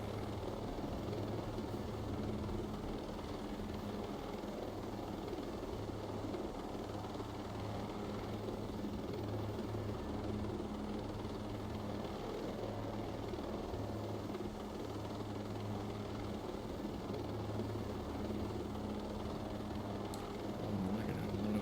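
A helicopter flies in the video game Ghost Recon Breakpoint, its engine and rotor making a steady, even drone that holds constant throughout at moderate level.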